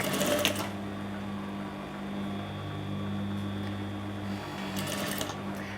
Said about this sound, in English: turn on the machine, and we're ready to start sewing. And we're going to back tack.